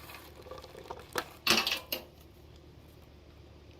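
A screwdriver drops and clatters with a few short metallic knocks and rattles, one sharp hit standing out, against a quiet background.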